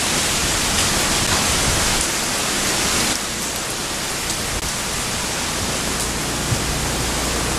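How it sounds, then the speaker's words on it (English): Strong hurricane wind during Hurricane Irene roars steadily at a pier in Virginia, a loud, continuous broadband rush with gusty surges, filling the whole scene without any talk. "Oh geez, big wind"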